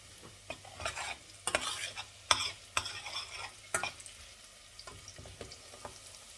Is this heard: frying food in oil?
yes